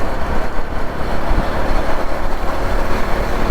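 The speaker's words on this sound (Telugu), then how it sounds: "చూడండి రన్నింగ్ ట్రాఫిక్" Road traffic rolls past on the route toward Sinhagad during a motorcycle ride. A loud, steady wash of engines and road noise continues throughout, up close.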